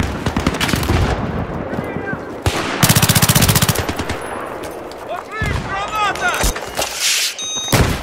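Rapid gunfire in the video game Battlefield 3 with shotgun blasts, a loud, dense stretch of repeated shots mixed with bursts of automatic fire, booms and game effects, heard close and intense throughout.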